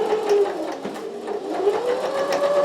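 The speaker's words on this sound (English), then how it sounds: "So I've stitched round that inner line that I marked" A sewing machine stitches around the marked inner line of a fabric basket, a loud, close, continuous motor whir with a rapid needle clatter and slight shifts in pitch as it runs.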